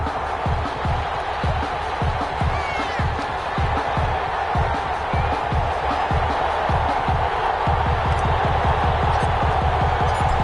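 A stadium crowd roars in an American football video game before a Philadelphia Eagles versus San Antonio Express matchup, a steady wash of cheering with rhythmic pulsing beats running through it.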